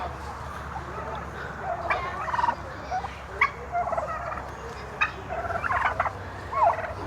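A flock of turkeys, mostly hens with one tom, gobbles repeatedly, overlapping bursts rising and falling over steady background noise, with no talking.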